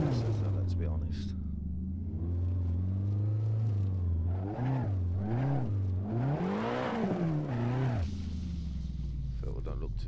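Nissan 180SX cruising on a mountain road in Assetto Corsa, its engine humming at a low steady drone, then rising and falling in pitch through a series of revs before settling back, with speech over it.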